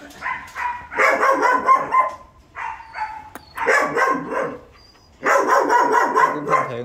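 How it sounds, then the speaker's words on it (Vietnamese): A tall red-brown Doberman barks in several bursts of loud, close yips and bow-wows, separated by short pauses, with no talk over it. "Đây chó cho mẹ nó. Đây chó mẹ phải không anh?"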